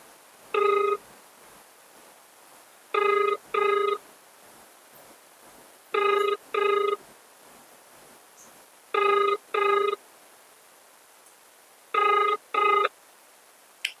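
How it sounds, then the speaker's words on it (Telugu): A phone rings on an outgoing call to a national highways official, giving four clear double rings at an even pace with quiet pauses between them, heard alone. "ఒకసారి దీనికి సంబంధించినటువంటి నేషనల్ హైవేస్ డి గారికి కాల్ చేద్దాం"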